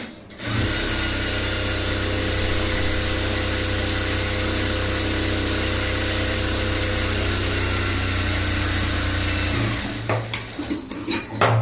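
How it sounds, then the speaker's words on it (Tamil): A sewing machine runs a single long, straight seam on a blouse, a steady, loud motor whir that lasts about nine seconds and then stops, followed by a few light clicks and handling noises. "இப்போ நம்ம ஸ்ட்ரைட்டாக ஒரு தையல் போட வேண்டியதான்"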